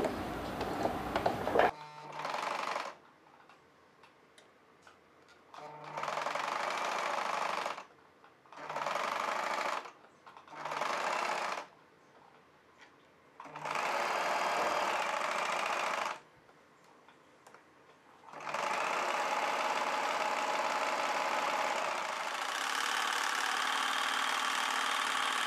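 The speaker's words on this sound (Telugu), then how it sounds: "ఈ వైర్ పెట్టేసుకొని కుట్టు వేసేసుకోవాలి" A sewing machine zigzag-stitches the edge of a three-layered ruffle sleeve with wire folded inside, running in long steady whirring stretches broken by pauses, close and clear with no speech.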